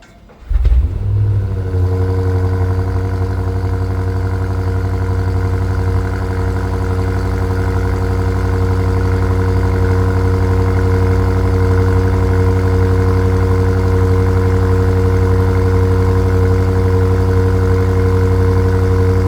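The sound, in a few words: BMW M5 Touring V8 engine cold start in dynamic mode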